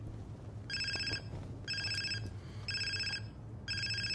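A telephone rings in four evenly spaced electronic trills, each lasting about a second, over a low background hum and faint movement sounds.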